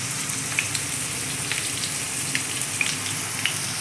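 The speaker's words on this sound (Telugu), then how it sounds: "పచ్చి పెట్టుకుంటూ ఫ్రై అయినవి తీసేసుకుంటూ ఇలానే మొత్తం కాకరకాయలు వేసేసుకున్నాం" Bitter gourd pieces fry in hot oil with a steady, close hiss and crackle, small pops scattered through the sizzle and no talking.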